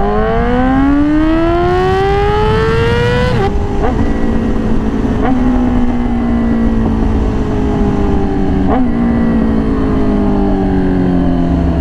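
A Yamaha R6 sport motorcycle fitted with a very loud aftermarket exhaust revs under a throttle pull, its tone rising steadily then dropping in stepped gear changes, close and loud throughout with no talk.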